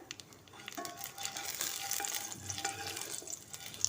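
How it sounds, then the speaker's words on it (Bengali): Nigella and cumin seeds with a bay leaf sizzle in hot mustard oil in a wok, a close, crackling fry with light stirring noises. "কড়াই গরম হলে তাতে সর্ষের তেল গরম করে এতে দিতে হবে কালো জিরে এবং জিরে ফোড়ন"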